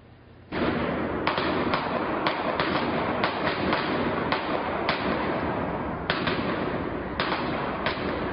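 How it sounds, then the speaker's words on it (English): Gunfire from a gunman at a swimming pool party, a dense continuous crackle overlaid with scattered sharp cracks at irregular intervals, moderately loud with no talking. "a gunman, apparently without warning, opened fire"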